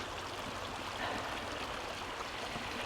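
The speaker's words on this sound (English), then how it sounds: "And there's a river stream running through here." A river stream flows across a woodland trail near an opened beaver dam, a steady, close rushing wash of water that fills the whole moment without pause.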